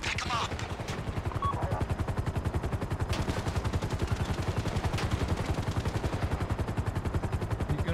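Rapid automatic gunfire crackles in a long continuous burst in GTA V, loud and close, with faint voices now and then beneath the shots.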